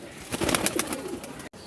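A pigeon with purple feet, a high-flying Kamager breed, gives a short soft coo, close and alone, over faint background hiss.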